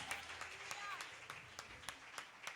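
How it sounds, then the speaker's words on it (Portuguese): A church congregation at a worship festival claps faintly, with scattered, distinct hand claps ringing out over a quiet, roomy background. "Aplauda ele aí, querido, em nome de Jesus."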